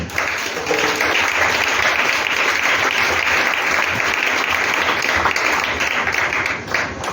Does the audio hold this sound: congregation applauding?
yes